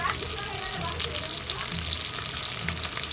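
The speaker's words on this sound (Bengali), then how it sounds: "এখন মাছগুলো ভালো করে ভেজে নেব লাল লাল করে।" Pabda fish frying in mustard oil, a steady close hiss and crackle of hot oil that keeps up throughout, with faint clinks and no clear speech.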